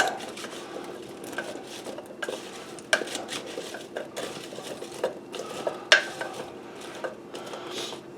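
A spoon scrapes and clinks against a metal soup pot as potatoes are stirred and coated with flour, with repeated knocks and scraping strokes in an irregular rhythm, close and fairly clear.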